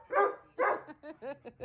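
A dog barks close by, two full barks followed by a quicker run of shorter, higher yips, all fairly quiet and alone.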